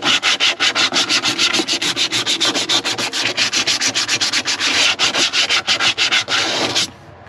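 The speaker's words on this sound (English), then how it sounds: "I'm just roughing it up so the putty has something to stick to" Sandpaper rubbed by hand over the smooth surface of a stock tank, a loud rhythmic back-and-forth scratching in quick regular strokes that stops abruptly near the end.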